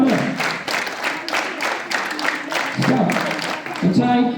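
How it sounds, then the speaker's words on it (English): Students clap in rhythm at a school assembly, with dense continuous clapping from a large group and spoken commands mixed in under it. "Clap hands."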